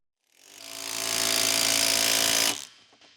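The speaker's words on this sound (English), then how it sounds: "Use the 19mm deep socket with the electric impact wrench to tighten the wheel lug nuts." An electric impact wrench fitted with a 19mm deep socket runs a single continuous burst of about two seconds as it tightens a Honda Civic wheel lug nut, then cuts off with a short rattle.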